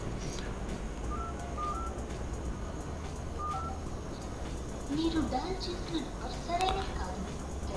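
A few short keypad dialing beeps on an iQOO 9SE smartphone, spaced apart over a steady background hiss, with a voice talking near the end.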